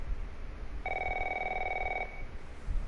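Phone ringing in The Last of Us Remastered, a single electronic ring tone held for about a second over a low background rumble, with no talking during it.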